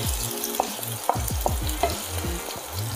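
Leek whites sizzle in melted butter in a saucepan for potato and leek soup, with a steady close frying hiss broken by repeated knocks and scrapes of a utensil stirring against the pan.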